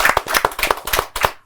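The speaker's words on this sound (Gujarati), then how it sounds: "એના માટે ઉત્સાહથી તાળીઓ" Hearty audience applause at a Gujarati film event for the upcoming film Karkhanu, a dense burst of close, loud hand claps with uneven rhythm, lasting under two seconds before cutting off.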